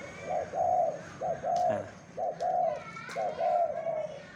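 A decoy dove of a three-note cooing type calls in a repeated series of short, mellow coo phrases, fairly close and clear over a faint outdoor background.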